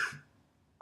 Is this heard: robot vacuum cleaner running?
no